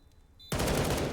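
Sudden burst of rapid Galil rifle fire in the CS:GO video game, starting after a quiet half second and continuing as a loud, dense automatic volley to the end.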